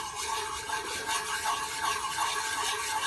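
A metal file rasps across a vise part in steady, repeated forward strokes, a soft scratchy rubbing with a regular rhythm, close and fairly quiet, with no talk.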